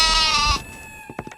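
A goat bleats in a South Indian movie dubbed in Hindi, one long wavering cry up close followed by a few short, fainter bleats.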